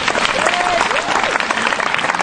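A congregation applauding to acclaim God at a church service, a steady dense wash of clapping from a crowd, loud and continuous, with voices mixed in throughout.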